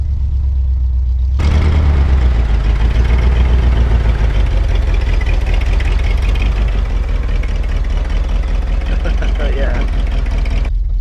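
A rare GMC truck that sat abandoned for 30 years runs its engine with a loud, steady low rumble near the microphone, starting abruptly and then idling evenly.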